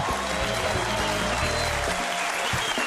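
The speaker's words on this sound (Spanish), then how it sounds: "Un aplauso para FUNSAR." A television studio audience gives a short burst of applause, fairly faint and mixed with background music, for a visiting rescue foundation on a comedy variety show.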